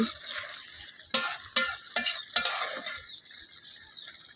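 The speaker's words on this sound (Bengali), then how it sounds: "এখানে আমি ছোটো মাছ চচ্চড়ি করতেছি" Small fish chorchori cooking in a pan, with steady soft sizzling and a few sharp scrapes and clinks of a spatula against the pan as it is stirred.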